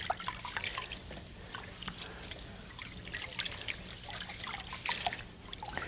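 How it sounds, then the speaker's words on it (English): Rice being rubbed between palms and rinsed in water in a colander to remove grit: soft continuous trickling and sloshing with faint drips, close and quiet, no talking. "rub the rice like this between your palms to get out all that grit, and you'll notice that the water goes cloudy"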